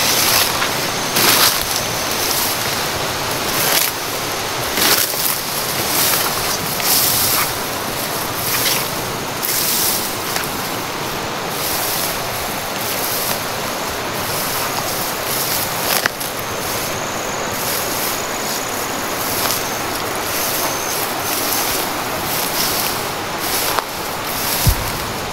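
A strong, fast stream current rushes loudly and steadily in an outdoor grassy spot, a dense, continuous roar of flowing water with gusty wind noise across the microphone.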